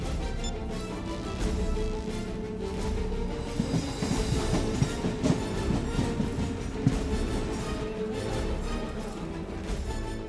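A local train rumbles at a station platform, loud and close, with rolling wheel clatter and rhythmic clicks building through the middle, heard without speech.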